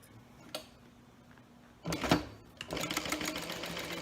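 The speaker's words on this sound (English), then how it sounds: "We're just going to sew 1/4 inch right along that edge." Sewing machine stitching a quarter-inch seam along the edge of a zipper pouch, a brief quiet tick, then a close, rapid whirring run of stitches that continues to the end.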